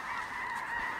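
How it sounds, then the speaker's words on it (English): A huge flock of snow geese overhead in North Dakota, a dense, continuous chorus of honking that fills the whole second at fairly close range, with no voices. "tens of thousands of snow geese above me right here"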